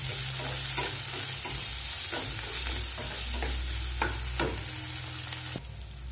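Onions and tomatoes sauté in a pan for a walnut tomato chutney, a steady sizzle broken by repeated scraping stirs of the spoon, with no one talking.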